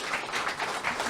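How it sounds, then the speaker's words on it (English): A live audience claps for a panel of film and television writers, an even patter of applause at moderate level, slightly distant, with no speech. "Please give our panelists a warm round of applause"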